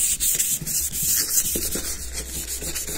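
Close, steady rubbing of sandpaper across a primed car body panel, worked around grooves and rivets, continuing without a break and with no talk.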